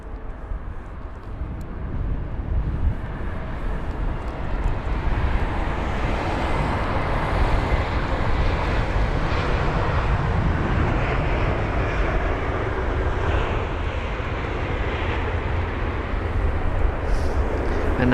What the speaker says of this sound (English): We have got this next aircraft, BA 835 from Dublin, a 1 hour and 2 minute long journey on board this A320neo